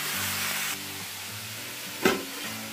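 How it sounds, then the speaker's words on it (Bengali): Red amaranth greens cook in a pan in a home kitchen at night, giving a steady low sizzle and hiss with a low hum beneath and one brief clatter, no voices. "এখন আমি রান্নাঘরে রান্না করছি।"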